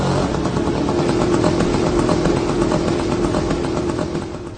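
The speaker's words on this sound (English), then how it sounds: "you will be hearing a moped sound buzzing in the air" A loud, buzzing small engine of a Shahed-136 drone drones steadily like a moped, holding constant before fading slightly at the end.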